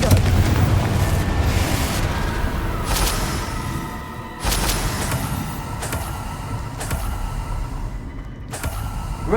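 Fire-spell blasts in the Hogwarts Legacy video game: a dense, continuous stretch of game sound with several sharp bursts and booming impacts spread across the clip, loud and busy with no talk.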